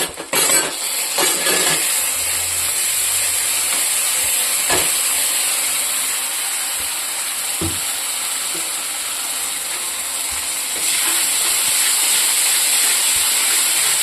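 Spice masala fries in a pan for a local chicken curry with a continuous, close sizzling hiss, broken by occasional clicks and scrapes of stirring, and no voices.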